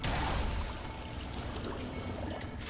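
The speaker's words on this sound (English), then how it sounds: "I'm gonna refill this with water." Water pours steadily while a container is refilled in the video game Ratchet & Clank. It is a continuous gushing wash at moderate level with no talk.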